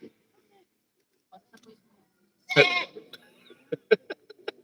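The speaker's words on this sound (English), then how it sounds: "I'm getting disturbed by goats." Goats bleat in one loud wavering cry, followed by a string of short, sharp knocks and clicks nearby, with otherwise quiet gaps.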